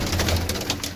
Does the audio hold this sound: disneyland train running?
no